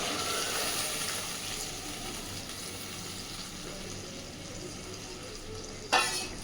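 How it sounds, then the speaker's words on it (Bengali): Oil and spices sizzling steadily in a pan of sardine curry, with a brief bright splash near the end as a little water is poured in and hisses. "এবার অল্প জল দিয়ে দিচ্ছি"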